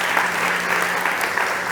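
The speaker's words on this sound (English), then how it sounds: "big applause for Erik, please" A startup competition audience applauds a presenter on stage, a brief burst of steady, dense clapping from a crowd, moderately loud and without talk.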